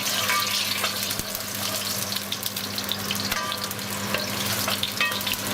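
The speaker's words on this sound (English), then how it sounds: "as soon as the oil is hot enough, we're gonna add the aromatics, and we're gonna start with the lime leaves. Followed by the crushed galangal root." Lime leaves and crushed galangal root hitting hot oil in a pan, giving a dense, steady crackling sizzle with scattered pops throughout.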